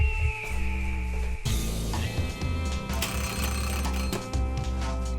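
A mobile phone rings with a repeated electronic ringtone pattern, fairly close, sounding over a busy background of indoor noise with no talking.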